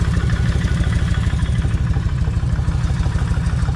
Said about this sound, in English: I'm probably just gonna let it sit for about 6 minutes idling before I even attempt to speed the motor up.